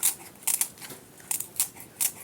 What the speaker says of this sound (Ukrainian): а можна це зробити кухонними ножицями